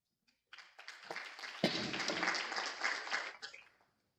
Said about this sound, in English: thank you for giving me the applause